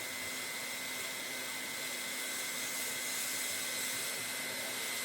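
A VEVOR hot air plastic welder blows a steady, loud, close hiss of hot air with a faint whine as it heats plastic, unbroken throughout and with no talking.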